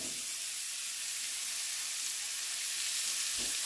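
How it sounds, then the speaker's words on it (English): Onion sizzles steadily in hot oil in a pan, with a soft, even frying hiss. A faint clink is heard near the end. "All right, so we're just gonna caramelize the onion."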